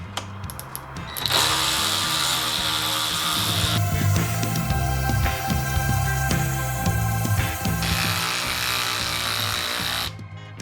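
A Ryobi 18V One+ cordless 3/8 ratchet drives a 5-inch, 1/4-inch lag bolt into wood with a loud, steady motor whir and mechanical rattle, running close and continuously for about nine seconds with no talking.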